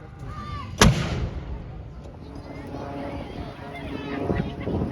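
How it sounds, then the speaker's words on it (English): A single heavy artillery blast booms sharply at a lakeside Armed Forces Day display, followed by a lingering rumbling echo with crowd ambience behind it. "Number 1, fire! Number 2, fire!"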